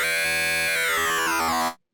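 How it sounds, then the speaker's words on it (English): A wavetable synth tone shaped by the fold effect in Ableton Wavetable, a loud, bright, buzzing sustained note with dense harmonics that bend slowly downward before cutting off abruptly near the end. "fold is going to move it towards the middle, and then once it hits the middle, it's going to mirror it out on either side"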